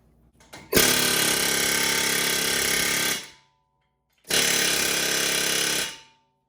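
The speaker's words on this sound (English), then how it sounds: "I hit the other side of the hub with the air hammer so that I can jar it" A pneumatic air hammer pounds a brake rotor hub in two long, loud, rapid-fire bursts of about two and a half and two seconds, separated by a short silence.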